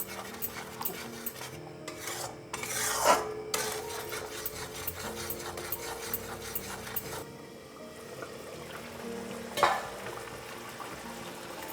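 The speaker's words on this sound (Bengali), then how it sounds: "আবারও এই মশলাটা খুব ভালো করে কষে নিতে হবে" Yogurt-based spice masala for a Bengali fish curry is stir-fried in a pan, with a steady low sizzle broken by a few sharp scraping strokes of a spatula against the metal.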